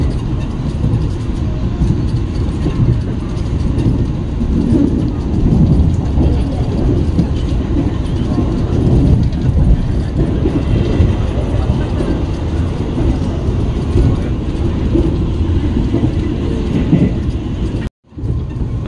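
Onboard a Taksaka executive train passing straight through Randegan station, amid green rice fields: a steady loud rolling rumble of wheels and carriage throughout, with a brief dropout near the end.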